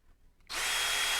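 A cordless drill spins up abruptly after a brief quiet moment, then runs as a loud, steady whine while hand-tapping a hole in a machined metal part in a CNC shop.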